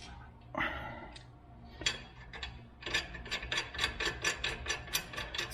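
A rear brake rotor on a 2000 Acura 3.2 TL is turned by hand to check for parking brake drag, giving close, rhythmic ratcheting and scraping clicks that repeat in quick, even bursts.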